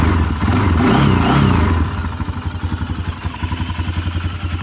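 A 2003 Honda 400EX ATV engine runs steadily close by, louder and rougher at first, then dropping into an even, rapid idle pulse with no talk over it.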